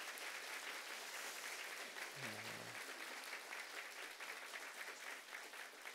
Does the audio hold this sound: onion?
no